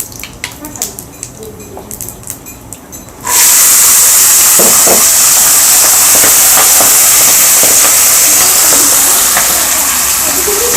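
Peas dropped into a pan of frying vegetable rice set off a sudden loud hissing sizzle that holds steady after a few quieter seconds of light scraping and clinks.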